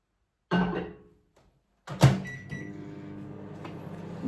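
A microwave oven melts a mint biscuit mixture: a thunk of the door, a pause, then another clunk as it starts and settles into a steady, low running hum.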